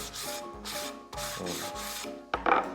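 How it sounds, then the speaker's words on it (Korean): Hand sanding of wooden furniture with sandpaper, rhythmic back-and-forth rasping strokes about twice a second, close and clear, ending with a sharper scrape. "자, 이렇게 이제 사포질까지 끝났어요"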